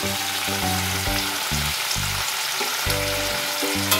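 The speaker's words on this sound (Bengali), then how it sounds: "এটা একটু বেশ ভাজা ভাজা হবে।" Young jackfruit frying in a pan for a traditional Bengali dal, a steady broadband sizzle running close and continuous throughout, with no talk over it.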